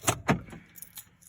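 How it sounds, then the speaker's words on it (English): Keys jangle in a short burst of bright metallic clinks, two strong shakes then lighter rattles, close and clear with no talking, while a new pair of Apple AirPods is being unboxed. "Here are the keys."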